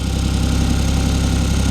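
A Ford Bronco engine idles roughly right after starting, a loud, close, continuous low rumble with a faint wobble in its rhythm.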